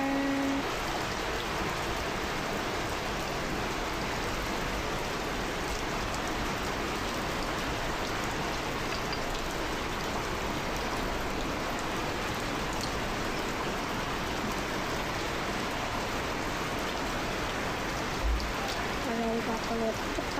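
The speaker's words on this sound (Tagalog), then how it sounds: "May ulan dito rin kasi guys." Steady rain falling during a power outage, a constant wash of drops that holds evenly throughout, with a few faint tones and a small knock near the end.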